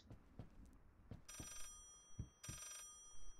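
Telephone bell ringing in the horror video game Layers of Fear, two short bursts of bright electronic ringing separated by a pause, heard amid quiet thuds and ambient game sounds.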